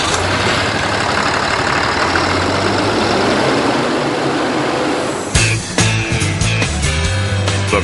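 A Cummins diesel engine in a new Freightliner truck on the assembly line, a loud, steady low rumble that shifts partway through into a rougher idle with knocking irregular pulses, heard close up.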